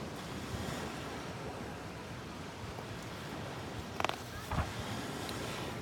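Ocean waves at the seashore wash in a steady surf roar with wind buffeting the microphone, plus a couple of brief knocks near the end.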